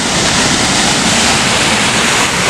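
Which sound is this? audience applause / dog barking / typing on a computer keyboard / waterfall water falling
waterfall water falling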